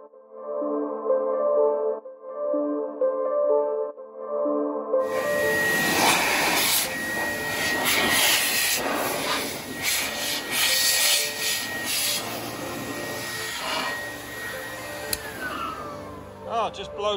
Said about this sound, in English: I've blow dried this chain, get any moisture residue out.